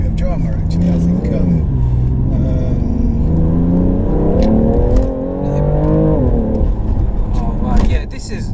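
A 2017 BMW F80 M3 Competition Package engine rumbles and rises in pitch as it accelerates, heard from inside the cabin while people talk over it.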